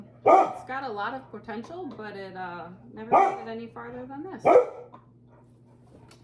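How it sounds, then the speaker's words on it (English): A dog barks in several loud, sharp bursts in a home, each close by, over a steady low hum while a person keeps talking through them. "sorry for the dog barking"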